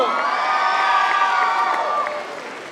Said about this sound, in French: On peut encore l'applaudir très très fort s'il vous plaît.